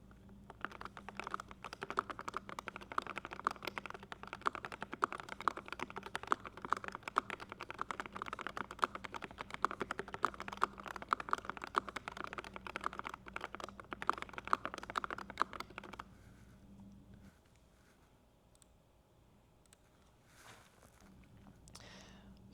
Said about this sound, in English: Let's start with a little typing.